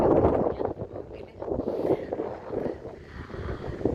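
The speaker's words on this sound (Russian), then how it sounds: "очень сильный ветер." Very strong seaside wind buffets the microphone in a steady, loud roar with gusting surges and rumbling low-end noise throughout, no voices heard.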